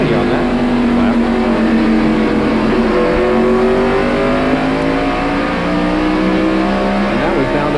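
NASCAR race car engine at North Wilkesboro's Holly Farms 400 in 1993, a loud continuous roar climbing steadily in pitch as it revs up through the RPM range, with a commentator's voice mixed under it.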